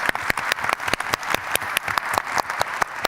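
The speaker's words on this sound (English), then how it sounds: "And a round of applause for all of our panelists." Applause for the panelists at the close of a conference panel session, a dense patter of many hands with a few sharper nearby claps, steady and fairly loud throughout.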